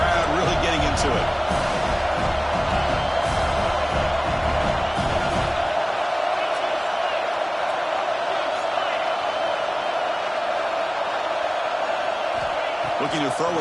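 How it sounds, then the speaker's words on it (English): Stadium crowd at a Tennessee vs Alabama football game roaring on third down, a dense sustained wall of cheering with a commentator talking over it. "3rd down and the crowd really getting into it."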